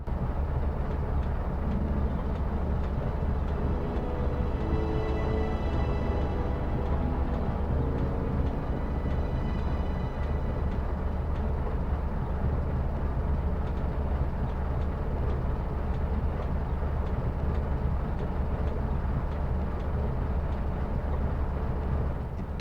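A giant land train from a PS1 video game demo rumbles along in a continuous, dense low drone, with faint tonal whines rising briefly near the start, steady and unbroken throughout.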